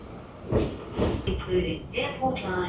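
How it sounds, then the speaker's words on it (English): A light rail train rolls past on a Sydney street, rumbling and clattering in uneven bursts with a brief high squeal, while a voice talks over it intermittently. "Here comes the light rail."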